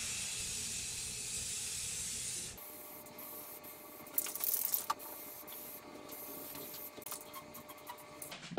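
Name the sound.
spray painting pipes with semi-gloss white paint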